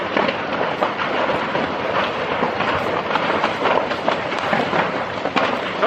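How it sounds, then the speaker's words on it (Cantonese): A massive fire rips through a Hong Kong high-rise, and loud, dense roaring noise is broken by sharp bangs and crackling bursts throughout, with no one speaking. "不斷傳出爆炸聲嘅。"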